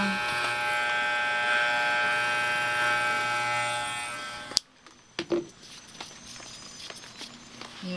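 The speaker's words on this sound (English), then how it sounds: "My Dremel, I have a stone Dremel on it." A Dremel rotary tool fitted with a stone bit grinds nails, giving a steady high-pitched whir for several seconds before it stops abruptly, followed by a few faint clicks and rustles.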